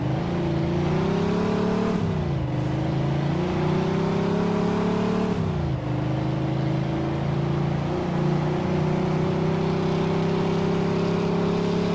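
A car engine in Mafia II drones steadily and loudly up close, its pitch climbing and dipping through two gear shifts as it accelerates, with no talking over it.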